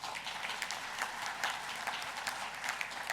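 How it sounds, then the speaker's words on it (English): A large audience at a peace convention plenary session claps steadily and evenly, a dense, sustained wash of applause throughout with no speech. "Could we give them a round of applause?"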